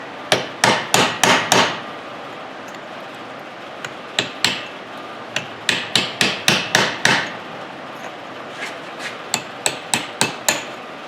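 A hammer strikes a snap ring into a Dodge Ram Cummins front driveshaft in sharp metallic blows, grouped into quick runs of four to six hits with a few lighter taps between, close and loud.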